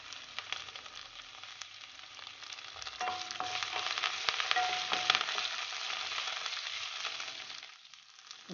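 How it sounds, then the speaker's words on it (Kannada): Curry leaves sizzle and crackle in hot oil for a millet and lentil dish, a steady close frying hiss with sharp pops and a brief stir, no voices over it. "ನಾನಿಲ್ಲಿ 1 ಎಸಳು ಕರಿಬೇವು ಹಾಕ್ತಾ ಇದ್ದೀನಿ."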